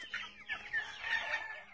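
Chickens and chicks cluck and chatter close by at feeding time in a short, lively burst of overlapping calls with no talking.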